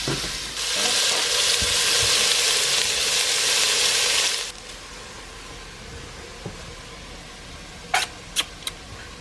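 Beef chili with diced green chilies sizzles loudly in a pan for about four seconds while being stirred, then cuts to quiet outdoor air with a few sharp clicks.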